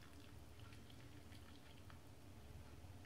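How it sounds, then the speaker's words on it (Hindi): Water at a steady boil in a pot, ready for cooking biryani rice, gives a faint, continuous bubbling patter with no voices over it. "अब ये वाटर एकदम बॉयल हो गया है"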